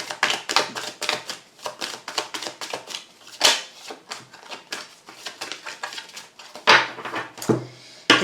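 Oracle cards are shuffled and drawn by hand, a close, steady run of dry papery flicks and taps with a few louder slaps, played without any talking.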